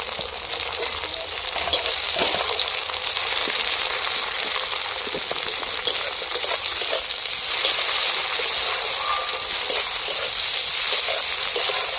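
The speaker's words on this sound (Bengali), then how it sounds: "এইবার আমি টমেটো কাটাগুলো তুলে দিচ্ছি এর মধ্যে" Chopped tomatoes added to softened, reddened onions sizzle and crackle steadily in a hot pan, a continuous bright frying hiss with occasional small clinks, close and fairly loud, with no one talking.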